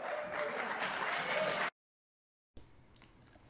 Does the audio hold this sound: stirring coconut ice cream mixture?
no